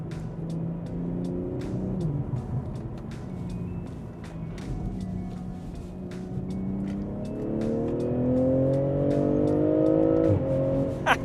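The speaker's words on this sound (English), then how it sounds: "We have also programmed a small burble in, which is all about half a second, so just to give the car a little bit more spice." A tuned BMW M340i with a B58 inline-six, 200-cell downpipe and resonated OPF delete drones and rises in pitch, with sharp crackling pops from the exhaust scattered over the engine note, growing louder toward the end.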